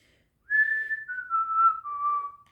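A girl whistles a single sustained, gliding tune that steps slowly downward in pitch over about two seconds, clear and close, alone without any talk.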